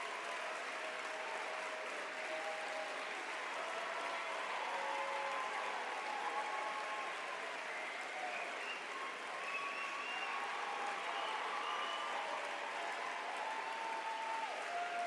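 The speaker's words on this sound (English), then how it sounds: "Let's give her a huge round of applause." Sustained applause from a crowd at a political holiday party, steady and dense throughout but heard at a distance and fairly quiet, with faint voices and whoops mixed in.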